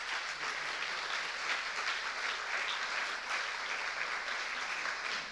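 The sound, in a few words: audience applause for the authors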